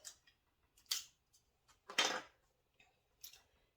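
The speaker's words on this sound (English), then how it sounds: "I'm going to cut it on this seam." Scissors cutting fabric along a seam of a pair of trousers being reused for a children's chair, a few sparse, soft snips and crunches close by in a quiet room.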